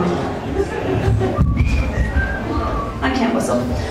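Someone whistles a wavering tune in a few sliding notes, over a noisy background of crowd chatter and murmuring voices.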